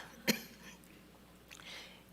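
A single short cough from a woman with allergies, heard during a sermon on the Holy Spirit, a quick sharp burst followed by quiet room noise and faint breathy sounds.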